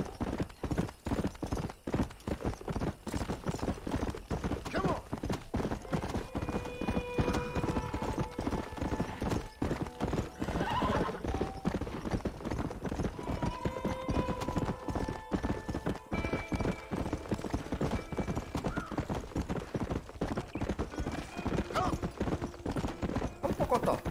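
A horse gallops in the Red Dead Redemption video game, rapid rhythmic hoofbeats pounding steadily throughout, with a neigh or two and game sounds layered in, and someone talking over it now and then.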